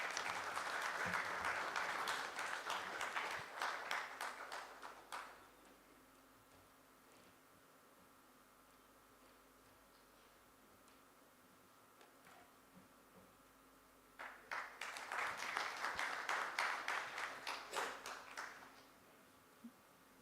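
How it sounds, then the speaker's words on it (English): Conference audience at a national management convention claps in two bursts, a five-second round of applause, then near silence, then another few seconds of clapping, moderately distant in a large hall. "Let's give him a huge round of applause."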